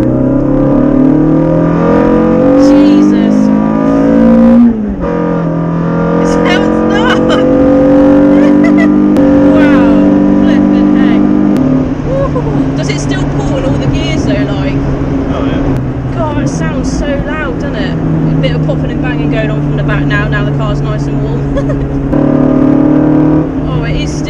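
A modified, cammed Renault Clio 182 running at 194 bhp through a Scorpion exhaust, its engine droning loudly and rising and falling through gear changes up close, with someone talking over it throughout.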